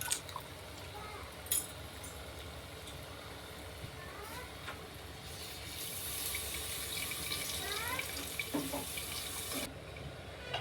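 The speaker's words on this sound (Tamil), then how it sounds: "இப்போ புளி தண்ணி ஊற்றியாச்சுங்க." Tamarind water poured into a pot of anchovy fish curry, a steady watery splashing and trickling that runs for several seconds and swells louder toward the end, with a faint voice talking underneath.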